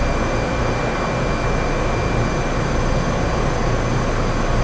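A helicopter in Microsoft Flight Simulator 2024 on a medevac flight to an oil rig, heard as a loud, unbroken engine and rotor drone, close and constant with no talking.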